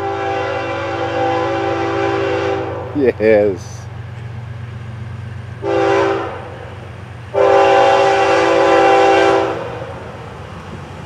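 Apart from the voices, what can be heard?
FEC 109 freight train passing with horn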